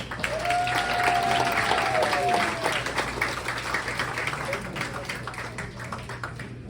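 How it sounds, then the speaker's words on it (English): Sustained audience applause fills a comedy show venue, a dense wash of many hands clapping that starts loud and gradually thins out, with a faint whistle or cheer rising briefly early on. "Let's give a big round of applause for Tara."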